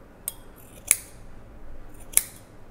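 Horl scissors snipping through material, three crisp, sharp cuts spaced apart in an otherwise quiet room, close and clear.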